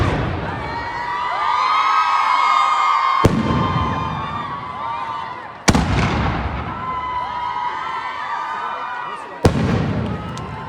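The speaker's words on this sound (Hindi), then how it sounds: "पटाखे पूरे हो गए?" Firecrackers burst outdoors with three sharp, loud bangs over a continuous hiss and crackle, while a crowd of children shouts and cheers throughout.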